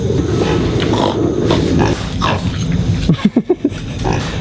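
Pigs grunting at a farm or animal park in Chiba or Ibaraki, Japan, a run of short close snorts and grunts toward the end over steady crowd and ambient murmur.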